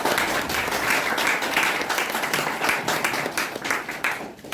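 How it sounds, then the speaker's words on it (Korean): An audience at a panel discussion on descendants of Korean independence activists bursts into steady, dense applause that carries on for several seconds without pause. "박수 한번 주시죠"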